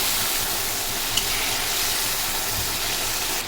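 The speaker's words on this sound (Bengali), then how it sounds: "এখন মিষ্টি কুমড়াটা ভাজি করা হচ্ছে আর এই পাশে মশলাটা একটু কষিয়ে নিচ্ছি।" Sweet pumpkin frying in a pan gives a steady, close, even sizzle throughout, with faint scraping and a small tap partway through.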